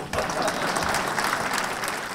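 A seated audience claps together at a French artisan excellence awards event, a brief, steady burst of dense applause heard alone at moderate volume.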